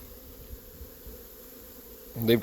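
Honeybees buzz steadily around a hive on a rainy, dreary mid-February day, a soft continuous drone that stays low and even before a louder, closer burst of buzzing swells at the very end.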